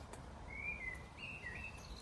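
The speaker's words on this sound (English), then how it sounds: "I don't usually care about birdsong, but there's a really nice breeze" Outdoors, a single bird sings thin, high whistled notes in a few short phrases over a soft, breezy background hiss.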